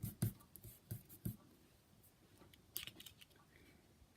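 Small scissors snip repeatedly through designer series paper while a rose shape is fussy cut for a handmade card, a quick run of close, crisp cuts followed by quieter intermittent snips.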